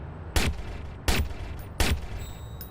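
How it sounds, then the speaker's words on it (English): A semi-automatic silenced pistol in the game Watch Dogs fires three evenly spaced, sharp, suppressed shots, about 0.7 seconds apart, each with a brief thump and a short tail, and no talking. "Oh, semi-auto silence pistol."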